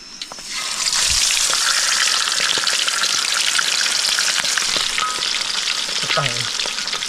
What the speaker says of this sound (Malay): Goreng kepala dulu,